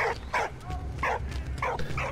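A dog in a video game (Valiant Hearts: The Great War) barks with something in its mouth, in a quick series of about five sharp yips, evenly spaced over a low rumbling background.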